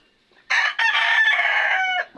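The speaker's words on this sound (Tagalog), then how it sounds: "Tilaok ng manok ang maririnig mo." A rooster crows once, loud and near, in a rural provincial setting in Lucena, Quezon, in a rising and falling call of about a second and a half against otherwise quiet surroundings.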